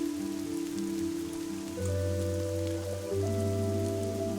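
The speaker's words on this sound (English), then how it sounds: "I love the rain." Rain falls in the video game Fall of Porcupine as a steady hiss under sustained, soft musical tones that shift partway through.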